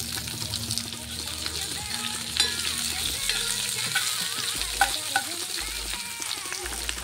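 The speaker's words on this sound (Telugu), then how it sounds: "ఇప్పుడు ఇందులో మనం ఆల్రెడీ కట్ చేసి పెట్టుకున్న ఉల్లిపాయ ముక్కలు యాడ్ చేసుకుందాం." Chopped onions sizzling in hot oil in a pan while pepper dal is cooked, a steady close frying hiss with scraping stirs and a few sharper clinks of the spoon, and no talking.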